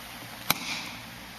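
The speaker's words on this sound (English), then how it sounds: "If you take a little rubber mallet hammer like this and tap on your cabinet" One sharp, dull tap of a rubber mallet against a braced wooden speaker cabinet stands out once over a steady background hiss, with a brief muted resonance afterward.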